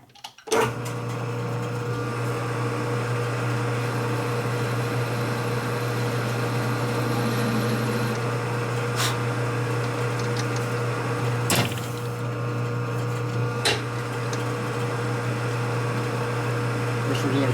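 A powered saw runs steadily while freehand-cutting a taper on a hose barb for a custom Harley show bike, with a continuous steady hum and a few brief sharp clicks along the way.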